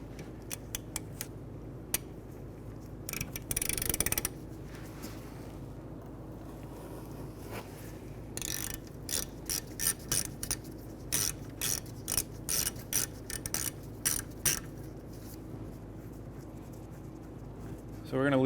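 A socket wrench with a shallow socket loosens a rear brake caliper bolt on a 2015-2019 Hyundai Sonata, giving close, rapid ratcheting clicks in several bursts, with a brief louder rasp early on.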